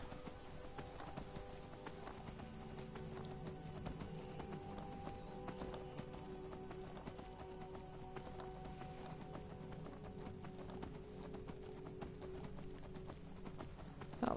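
Horse hooves clip-clop at a steady walking rhythm in Skyrim, a continuous even beat heard alone over a low ambient bed for the whole stretch, fairly quiet.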